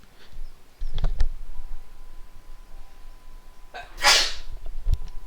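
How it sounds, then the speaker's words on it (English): A single sharp sneeze, close and loud, rising out of a quiet room with a few faint clicks and rustles before it, heard during Pillars of Eternity gameplay. "me sneeze first."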